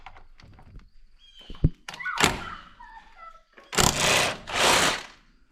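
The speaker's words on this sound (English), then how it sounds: "I just gotta rip them out real quick. Let me get the impact." A pneumatic impact wrench rattles out the motor mount bolts on a barn-find Ford LTD. It sounds as two loud, sustained buzzing bursts near the end, after scattered clunks and knocks from handling tools.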